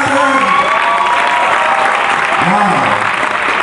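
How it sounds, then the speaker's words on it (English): Audience applause at a 2015 edge-series talk in Lagos, Nigeria: a dense, steady wash of clapping fills the room for a few seconds, with a tonal voice or sound briefly riding over it. "Let's have one resounding round of applause for Gina London"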